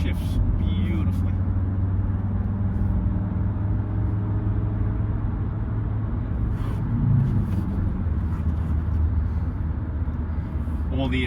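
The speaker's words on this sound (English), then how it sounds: "This car's an absolute pleasure to drive." A 1997 Mercedes-Benz E290 Turbodiesel with a five-speed manual hums steadily from inside the cabin, a continuous low engine and road rumble running under a voice throughout.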